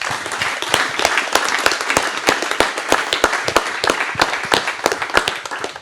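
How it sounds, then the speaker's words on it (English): An audience at a live stage show applauds a guest with crisp, individually audible claps from a fairly small crowd, fast and uneven and held at a steady, lively level for nearly six seconds, with no speech over it. "now hold your applause"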